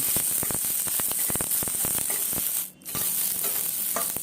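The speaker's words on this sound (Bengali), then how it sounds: "পেঁয়াজ আমি হালকা ভেজে নিচ্ছি।" Chopped onion sizzles steadily in hot oil in a pan for spinach, a dense hiss with frequent stirring clicks and a brief drop in the middle; no voices.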